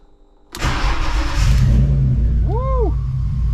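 A rebuilt BMW E36 cranks and fires abruptly, then settles into a loud, rough idle close by, with a brief voice exclaiming partway through.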